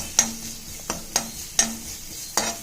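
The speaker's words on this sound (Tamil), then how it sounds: "வெங்காயம் வதக்கிட்டு சும்மா பாதி அளவுக்கு வதங்கினாலே போதும் ஃப்ரெண்ட்ஸ்." Onions and cashews sauté in a pan for rava dosa, a soft steady sizzle broken by four or five sharp, close scrapes of a spoon stirring at irregular intervals.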